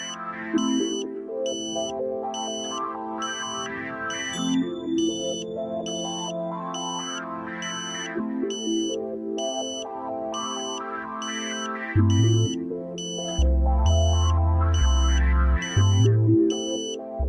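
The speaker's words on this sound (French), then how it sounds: "jusqu'à entendre la tonalité ambulance qui indique que la porteuse a été trouvée" A satellite dish pointing tone: a repeating electronic beep pulses in a fast, steady rhythm throughout, with a warbling tone that shifts pitch and a low buzzing hum joining later.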